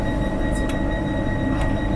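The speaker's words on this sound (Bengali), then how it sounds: "একদম পারফেক্ট টাইমে ছেড়ে দিল গাড়ি" A Vande Bharat Express pulls away from the platform, heard from inside as a steady low rolling rumble with faint high tones and soft knocks, no talk over it.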